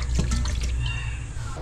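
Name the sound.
washing frog meat in water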